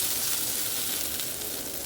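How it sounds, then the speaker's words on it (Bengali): Potatoes and yardlong beans fry in hot oil, making a steady, close, hissing sizzle that continues without pause. "এটা আলু বরবটি ভাজা"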